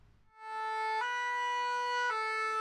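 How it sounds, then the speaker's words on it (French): Ambulance siren sounding at a vehicle handover ceremony in Lokossa, Mono department, Benin: a loud, steady electronic wail with strong harmonics that holds its pitch and shifts tone twice, with no talk over it. "La sirène retentit pour entonner le requiem aux références tardives ici dans le département du Mono"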